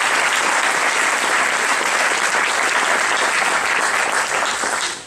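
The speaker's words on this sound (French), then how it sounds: "Mesdames, vous pouvez les applaudir très fort." Loud, dense audience applause fills a hall honoring the co-founders of Unis-Cité, sustained at full strength before easing off at the end.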